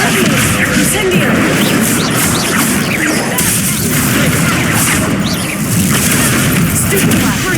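Incendio fire spells are cast in Hogwarts Legacy, a steady, loud stream of blasts, crackling bursts and whooshes layered over a dense combat din.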